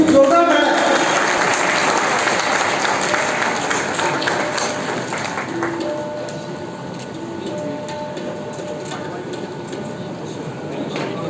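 A crowd applauds at a bank's financial-aid event for a disability foundation. Dense clapping comes in loud at first and gradually thins and fades over several seconds, with faint tonal sounds in the background.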